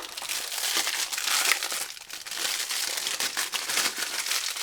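Plastic bag crinkling as a Fun Venus Cube, a 3x3 shape mod puzzle, is unboxed from an unsealed bag; a steady, close rustle and crunch of thin plastic with continuous texture and small dips, no voice.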